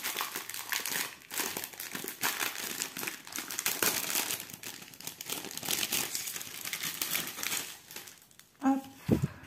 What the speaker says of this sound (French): Je vais ouvrir la pochette, on va regarder ça.